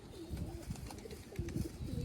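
Black-and-white fantail-type pigeons cooing softly nearby, a couple of short, low throaty coos in quick succession.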